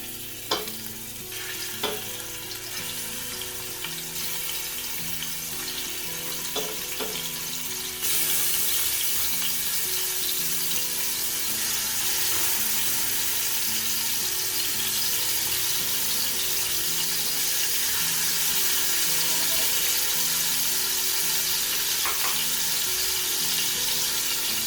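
Prawns for seafood fried rice sizzle and hiss in hot oil, a constant crackling wash that grows louder and denser partway through, with a few faint clinks of a utensil and no talking.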